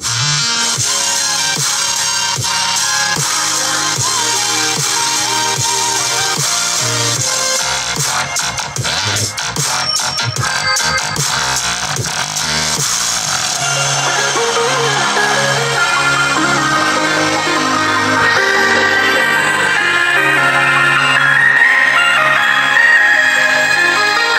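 Music played through an STK class D 2.1 amplifier rated 100 watts, loud and continuous, with dense full-range sound and a steady beat throughout.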